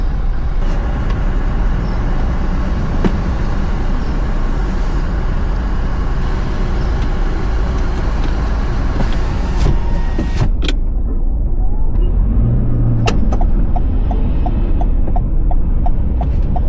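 Steady road traffic with cars and heavier vehicles rolling past in a continuous wash of engine and tyre noise, a couple of sharper transient clicks and a faint whine near the end.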